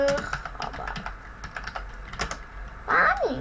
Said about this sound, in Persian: یک رو تایپ میکنم